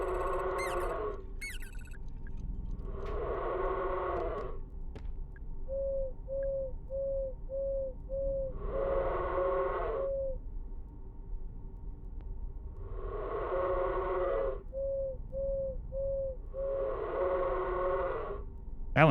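A bird in the horror game Crow Country hoots in repeated rhythmic bursts spaced a few seconds apart, with a soft pulsing tone filling the gaps and no talking.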